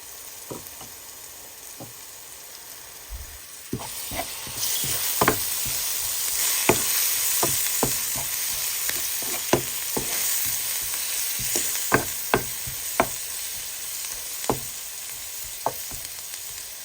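Fresh shrimp frying with chili and turmeric powder for a dried-shrimp dish, a continuous hiss of hot oil broken by sharp spatula taps and scrapes at irregular intervals, close and fairly quiet.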